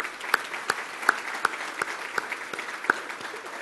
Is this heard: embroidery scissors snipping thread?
no